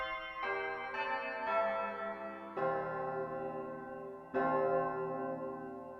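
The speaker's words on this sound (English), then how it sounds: "And then number 10 is Big Ben." A Big Ben chime voice on an electronic organ: rich bell chords toll in slow succession, the last striking louder, each swelling and lingering like a large clock chime.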